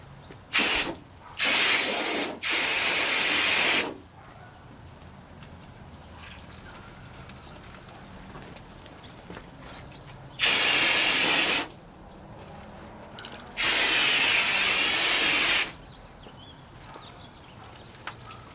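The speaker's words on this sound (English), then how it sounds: "Let's start spraying some water on it." Repeated bursts of hissing water spray onto car paint, each lasting a second or two, separated by quieter pauses.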